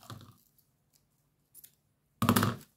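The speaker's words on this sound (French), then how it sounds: "Je recoupe un morceau de ruban" Scissors snip through a piece of ribbon while wrapping a small chocolate gift, a couple of faint soft clicks followed by one louder close crisp cut, with quiet pauses between.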